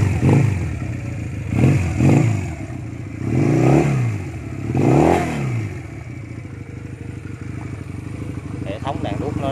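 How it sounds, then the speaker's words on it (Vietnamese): Stock Honda Rebel 170 Deluxe motorcycle with about 3,000 km, idling nearby, its engine rising in several loud revving swells before settling to a steady rumble, with faint clatter near the end. "Để mình test tiếng máy lên cho anh em nghe nha."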